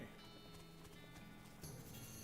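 Horse hooves clip-clop in the West of Loathing game, a steady quiet patter of hoofbeats mixed with background game music, with a brighter shift near the end.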